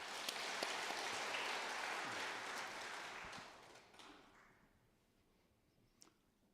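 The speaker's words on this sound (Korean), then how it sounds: "우리 박수로 맞이하겠습니다" A church congregation applauds at an elders' retirement service, a broad, steady wash of clapping that fades out toward the end, leaving near silence with one faint knock.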